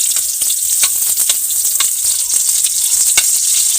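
Garlic sizzling loudly and continuously in a pan over a strong fire, close and steady with faint stirring scrapes, no talk.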